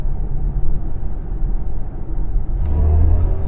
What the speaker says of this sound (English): when you put the car into sport mode, you get extra grunt, you get extra noise.